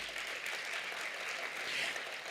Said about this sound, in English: So a big round of applause to each one of you.